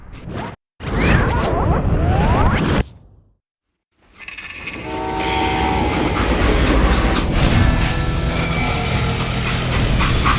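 A freight train rolls along in the Western shooter game Call of Juarez: Gunslinger. A brief rushing burst comes first, then a short silence, then a loud, continuous rumble and clatter with metallic squealing tones that builds and holds.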